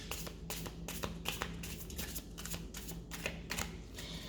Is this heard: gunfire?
no